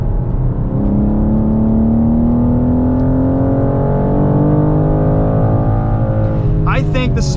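A 2023 BMW M2 with a 6-speed manual engine drones loudly from inside the cabin on a track, its pitch rising and falling steadily through a corner, with a brief voice near the end.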